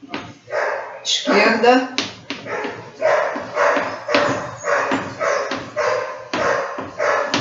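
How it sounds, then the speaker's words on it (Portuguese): Neighbor's dog barking in a steady series of sharp barks from nearby, with someone speaking in Portuguese at the start. "Esse cachorro da vizinha que eu chamo, até vocês devem estar escutando"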